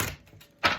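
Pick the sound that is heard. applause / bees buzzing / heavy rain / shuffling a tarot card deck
shuffling a tarot card deck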